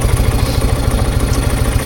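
A Kawasaki Vulcan motorcycle with a freshly cleaned carburetor idles close by with a steady low, lumpy pulsing throb and light mechanical clatter, with no talking.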